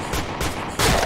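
Gunfire aimed at zombies in a video game's zombie mode: loud bursts of rapid shots in separate volleys, the last and heaviest near the end, with no talking over them.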